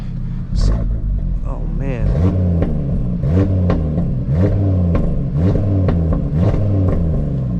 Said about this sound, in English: Get a couple revs for you guys